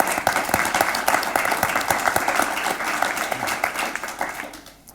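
Loud, sustained applause from an audience welcoming panelists onto the stage at a London panel discussion on innovation, with dense clapping that holds steady for several seconds before fading out at the end.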